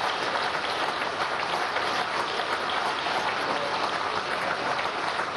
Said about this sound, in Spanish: creo que me estaban despidiendo con este aplauso